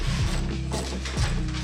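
Close, quiet ratchet clicks from a wrench loosening 10 mm fasteners on a Toyota Tacoma grille, in two short bursts separated by a pause.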